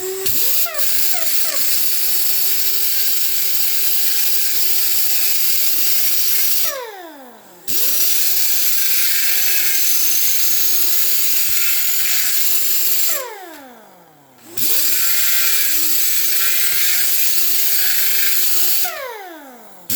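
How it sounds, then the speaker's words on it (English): An air grinder shapes a welded sheet metal patch, its high whine running in three long, steady bursts, each spinning down in a short gap before the next, loud and close. "I'll take the air grinder and start shaping that"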